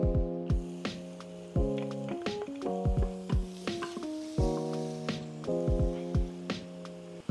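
Garlic sizzles in a hot pan over a steady crackle, with repeated clacks and scrapes of stirring and a sustained tonal hum running beneath the cooking, no talking.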